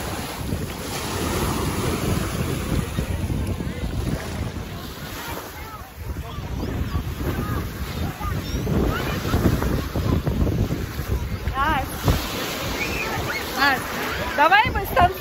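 Sea waves wash onto a beach in Sochi in the evening, with steady surf and strong wind buffeting the microphone and a few faint voices in the background.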